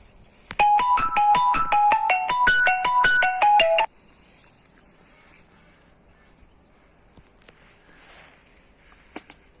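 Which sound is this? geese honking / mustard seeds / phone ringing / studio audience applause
phone ringing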